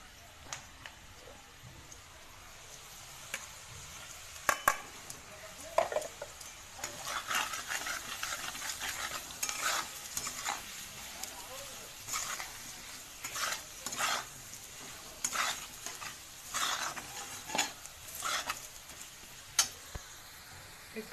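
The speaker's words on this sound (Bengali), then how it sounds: "একটু হালকা করে কষিয়ে নেব।" Paneer stir-fried with ginger, salt, turmeric, chili and cumin-coriander powder, giving a steady sizzle under repeated scraping and stirring strokes of a spatula in the pan, close and clear with no talk.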